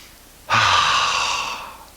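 One slow, deep exhale during a yoga session, a loud, breathy rush of air close to the mic that starts suddenly and fades away over about a second and a half.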